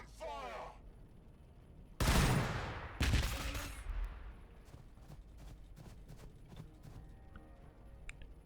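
Space Marine squads in the Warhammer 40k Battlesector video game open fire, with two loud bursts of shooting about a second apart, followed by scattered sharp shots and clicks, a brief voice at the start.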